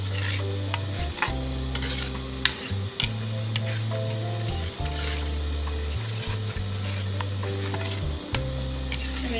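A paste of tomato, onion, garlic, ginger and spices frying for a cauliflower and potato sabzi, steady sizzle with repeated spoon scrapes and knocks against the pan over a constant low hum.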